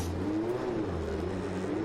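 INDY NXT race car on the Detroit Grand Prix street circuit after nudging a barrier, its engine droning and rising slightly in a steady close rumble as the driver looks for reverse.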